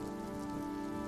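Rain comes down steadily on a rainy day as an even, continuous hiss of drops, with a sustained tonal drone layered underneath and no pauses.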